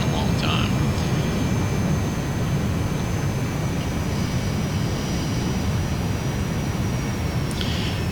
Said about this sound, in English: It really is one of the best flying airplanes I've flown in Flight Simulator in a long time.